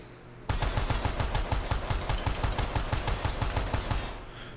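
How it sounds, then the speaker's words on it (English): A pistol mag dump in Ground Branch: a rapid, evenly spaced string of around twenty loud, close shots fired nonstop for about four seconds, then silence. "Just gonna do a little mag dump test there while controlling."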